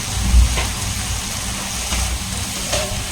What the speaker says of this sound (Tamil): லைட்டாக வந்து பார்த்திங்கன்னா தண்ணி சேர்த்துக்கிறேன்